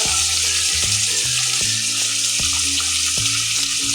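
Onion, tomato, potato, green peas and carrot with cumin and a pinch of asafoetida for tawa pulao fry in a pan, giving a steady, loud, close sizzle with soft stirring scrapes and no talk.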